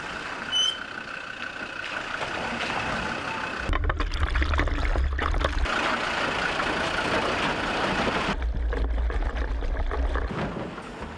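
A vehicle driving a rough outback road on the Gibb River Road, with a steady engine drone and two bursts of heavy rushing, splashing roar as it ploughs through water crossings.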